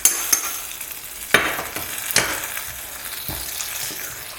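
A spoon stirs hot tempering and coriander leaves into Kerala sadya sambar in a pot, with a steady sizzle and a few sharp scrapes and knocks against the metal.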